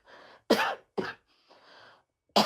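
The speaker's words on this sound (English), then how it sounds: "Don't worry about my cough" A man gives a few short, sharp coughs with brief pauses between them, close and fairly quiet, set among soft breathy sounds.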